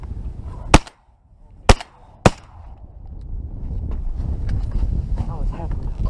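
Three sharp shotgun blasts fired at ducks during a duck hunt, the first two spaced apart and the third coming quickly after, followed by wind noise and excited voices talking.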